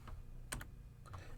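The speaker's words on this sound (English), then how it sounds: "we just start typing the dimensions. Each time we type a dimension, we hit enter." Dimensions being typed on a computer keyboard: a few quick key clicks, close and fairly faint, with no speech.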